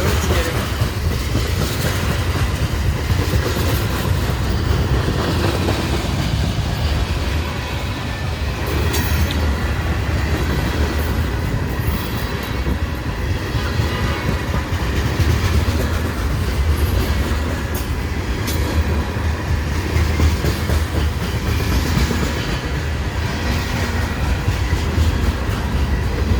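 Freight train passing along Depot Street in Chapel Hill, Tennessee: a loud, steady rumble of rolling wagons with rhythmic clatter of wheels and faint metallic squeals, continuing for the whole stretch.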